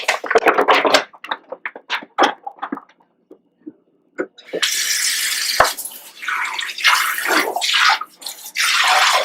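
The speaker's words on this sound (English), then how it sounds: "We'll just hit these with some cold water and rinse them off" Cold tap water runs over St. Louis cut pork ribs, a steady broadband rush that starts partway through after some handling clatter and bumps, close and continuous to the end.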